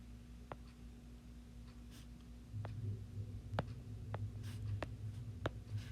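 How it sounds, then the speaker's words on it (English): Pen or pencil sketching a graph on paper for notes, faint scratchy strokes and short taps over a low steady hum in a quiet room. "So if we do a quick sketch of this in our notes"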